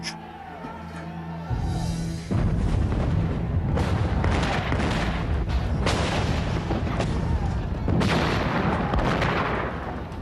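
An artillery bombardment of an American fort garrisoned by Continentals breaks in after a quiet opening, with heavy booms and rumbling blasts rolling on loud and continuous, with fresh impacts rising through the din.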